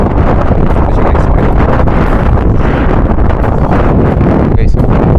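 Strong wind buffets the microphone outdoors at a spot called 1,000 trees, giving a loud, continuous roaring rush with slight gusts, with no other sounds standing out.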